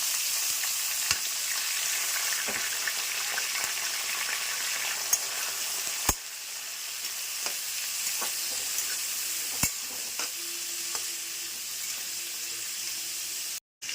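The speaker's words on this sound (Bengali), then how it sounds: "সবজিগুলো আমার ভাজা হয়ে গেছে" Peas, capsicum, carrot and onion fry in a pan, giving a continuous loud hiss and sizzle with occasional soft clinks and stirring knocks, no voices.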